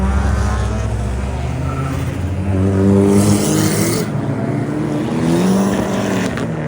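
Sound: car engine revving

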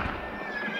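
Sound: horse neighing in a video game

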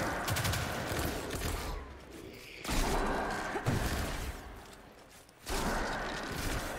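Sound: shotgun gunfire in Destiny video game

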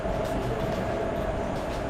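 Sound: Kollam to Madurai passenger train running

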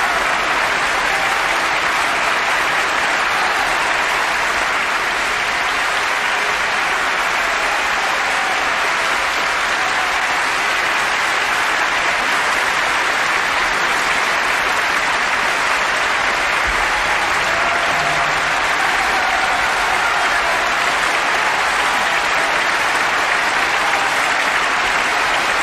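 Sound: standing ovation applause for Birgit Nilsson at the opera

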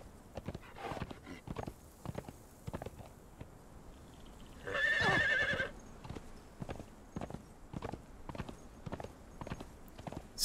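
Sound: horse hooves galloping in the video game Conan Exiles

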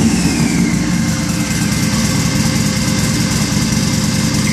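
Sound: Buell XB motorcycle engine running after DDFI-3 conversion

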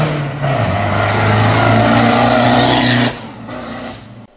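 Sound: Ford Transit van with stage 3 remap and custom exhaust

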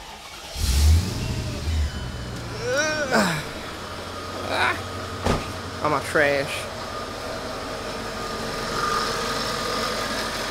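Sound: Mercedes E55 AMG engine starting and idling

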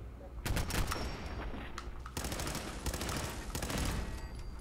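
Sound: turret gunfire in video game Fallout 4

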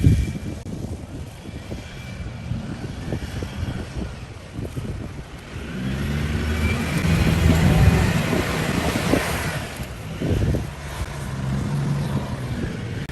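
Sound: straining off-road truck engine

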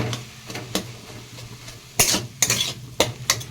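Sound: sautéing and stirring spinach greens in a pan

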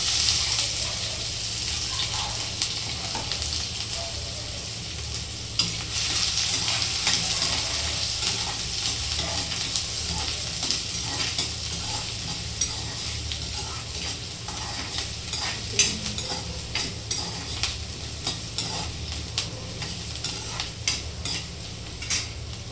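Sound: mustard seeds, garlic and onion sizzling in frying pan

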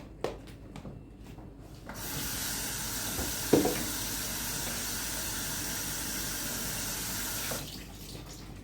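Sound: water running while rinsing chopped leeks

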